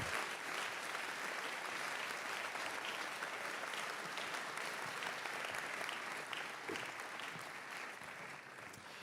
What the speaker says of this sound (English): Can we have a warm round of applause for these people?